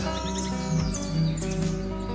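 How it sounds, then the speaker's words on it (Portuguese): Small birds sing in quick, light chirps and tweets, fairly faint and layered over steady sustained musical tones. "ouvir o cantar dos passarinhos"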